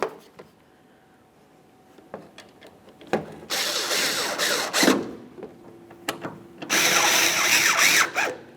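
A power drill drives Phillips head screws into a Chevrolet Silverado taillight with two loud whirring bursts of a few seconds each, separated by quiet pauses and small clicks.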